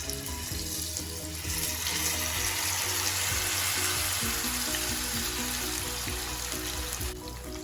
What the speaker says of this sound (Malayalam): ചെറിയ തീയിൽ മീൻ വറുത്തെടുക്കാം